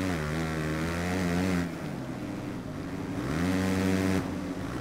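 A motocross bike engine from the MXGP3 racing game drones steadily, rising and falling in pitch as the throttle opens and closes through corners; loud, close and continuous.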